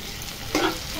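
Chopped tomato drops into a hot pan of frying khichdi base, a steady sizzle jumping briefly into a louder hiss partway through, close by.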